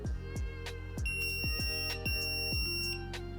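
A loud electronic beep from an NEC pager repeats in rapid pulsing bursts, a harsh buzzing tone sounding close and continuous for a few seconds.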